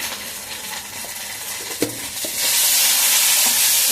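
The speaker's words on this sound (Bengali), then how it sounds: "এবার আমি ভালো করে কষাবো।" Spice paste with salt and turmeric being stirred and fried in a pan for a fish curry, spatula scrapes and clinks over a steady sizzle that swells louder toward the end.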